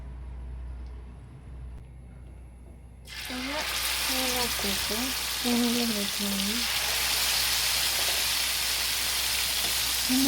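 Oil heating in a pan for frying fish breaks into a sudden, steady sizzle a few seconds in after near-quiet, continuing as a close hiss while a voice talks over it.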